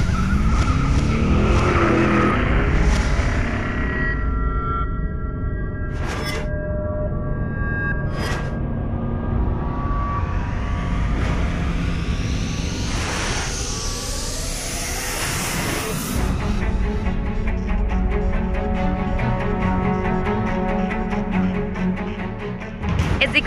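Supercharged 625-horsepower 6.2-liter LT4 V8 in an all-new 2014 Chevrolet Corvette Stingray, droning and roaring loudly throughout with rising and falling engine pitch and brief tire squeal, no talk.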